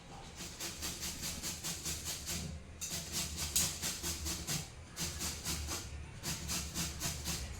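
A ripe papaya is scraped by hand in steady, rhythmic rasping strokes, close and moderately quiet, with brief pauses between runs of scraping.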